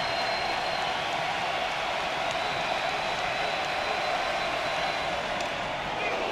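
Steady roar of a college baseball crowd at an Oklahoma vs LSU game, sustained cheering and applause filling the stadium evenly for several seconds without a break.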